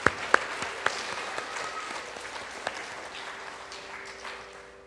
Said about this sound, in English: Big round of applause to all of us here